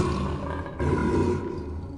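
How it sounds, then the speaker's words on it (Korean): A tiger's roar rumbles deep and loud through a forest, a sustained growling roar that swells midway and holds without any voices. "범의 포효만이 숲속에 울려 퍼질 뿐이었다."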